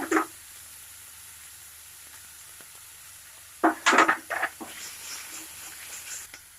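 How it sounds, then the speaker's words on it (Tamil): Onions fry in a pan for a roasted brinjal dish. After a quiet stretch, a few bursts of sizzling and stirring come up close, then settle into a soft hiss. "வெங்காயம் நல்லா வதங்கட்டும்."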